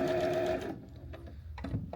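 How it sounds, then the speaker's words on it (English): A sewing machine back-stitches a seam on a small tote bag, giving a fast, close whirring burst that stops, followed by quieter clicks and shuffling handling noises. "back stitch again, and finish sewing till I meet my starting stitch"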